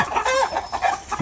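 A chicken clucks a few times in quick succession, close and clear, short bursts with no talking.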